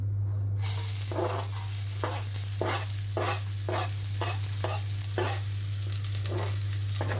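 Onion frying in coconut oil with a steady close sizzle, broken by regular stirring scrapes roughly every half second, with a constant low hum underneath.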